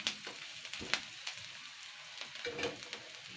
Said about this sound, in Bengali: জাস্ট আমি এক মিনিট নাড়াচাড়া করে নেব রসুনের ভাজা ভাজা গন্ধটা হয়ে আসলেই